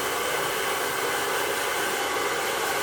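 A hairdryer blows steadily on hair at close range, a continuous broadband whoosh holding level throughout with no talk.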